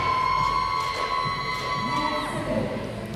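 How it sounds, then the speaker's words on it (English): A crowd cheers and shouts at the Austrian Throwdown 2024 fitness competition finals, a loud, continuous roar with tonal whistles and yells rising and falling over a few seconds. "I hope you guys are hearing the crowd go wild at home just as we are here in the studio"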